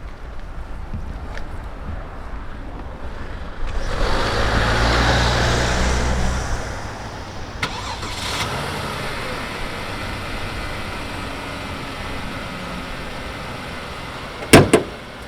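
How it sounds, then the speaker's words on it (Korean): A Genesis G330 six-cylinder engine starts with a brief rumble, then settles into a quiet, steady idle hum, with a sharp click near the end. "자 엔진 소리 한번 들려드리겠습니다"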